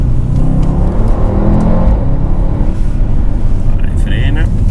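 A Mercedes-AMG car roars loudly and continuously on a race circuit, its engine droning up through a sustained acceleration close to the listener.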